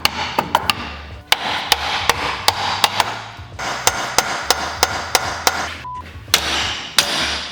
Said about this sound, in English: we could just keep hitting it with a hammer